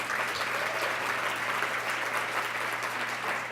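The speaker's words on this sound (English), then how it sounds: "Broadband. Give them a round of applause." An audience at the 2019 OWL Women's Day Breakfast in Santa Monica applauds a sponsor, producing dense, steady, sustained clapping that fills the room evenly with no voices over it.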